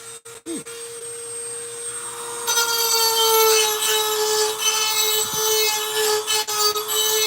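Bench grinder shaping a homemade steel hand chisel for carving, a steady loud whine with a brighter rasping grind rising once the blade presses against the wheel, continuous with no talk.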